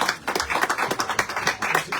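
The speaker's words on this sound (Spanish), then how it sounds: "Un aplauso al comité editorial." Audience applause at a literary magazine issue launch, honoring the editorial committee: dense, continuous hand clapping from a crowd, fairly close and steady throughout with no talk over it.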